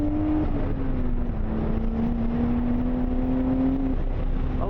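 A Nissan A31 Cefiro engine revs loud and steady from up close, its tone shifting as the car drops to second gear during high-speed drifting, then holding a sustained droning pitch.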